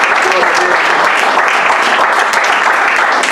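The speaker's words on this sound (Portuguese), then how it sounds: "Uma salva de palmas para Jesus Cristo." Church congregation applauding in praise of Jesus Christ during a service, a dense, steady wash of clapping from many hands throughout, with faint voices mixed in.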